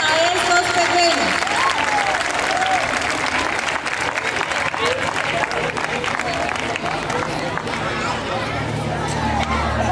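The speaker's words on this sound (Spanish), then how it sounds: "Un fuerte, fuerte aplauso para recibir a estos pequeños." Loud, steady audience applause and cheering at a Jarabe Tapatío folk dance performance, continuous for the whole stretch with crowd babble and shouts mixed in.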